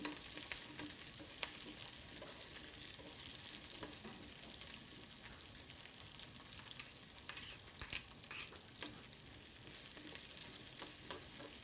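Chopped garlic sautéing in a pan for a Kerala-style small onion curry, a steady broadband sizzle with intermittent stirring clicks and scrapes, close and fairly quiet, no voices.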